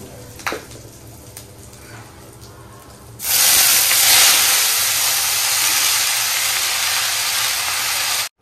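Panch phoron, cumin, dried chilli and asafoetida hit hot oil with a sudden loud, steady sizzling hiss that carries on for several seconds, after a few quiet kitchen knocks.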